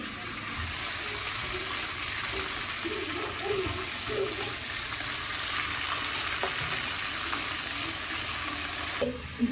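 Chicken pieces frying in a pan ahead of being made into a roast, with a steady, close sizzle running throughout and faint background sounds beneath it.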